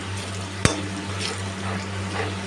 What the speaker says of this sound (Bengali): এখানে আমি পেঁয়াজ আর কালো জিরা ফোড়ন দিয়ে দিচ্ছি মসুরি ডালের জন্য